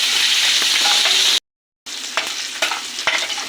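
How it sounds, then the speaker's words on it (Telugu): Onions and green chillies fry in oil in a pan with a steady, close hiss and sizzle, briefly cut off and then resuming with occasional stirring clicks. "ఉల్లిపాయ పచ్చిమిరకాయలు వేసేసారు. మిరకాయలు బాగా"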